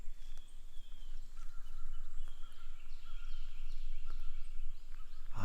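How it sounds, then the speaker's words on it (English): Birds calling outdoors on a quiet morning beside a tree, with repeated chirps and whistled calls, some nearer and some farther off, over a steady low background hum. "Listen to those birds."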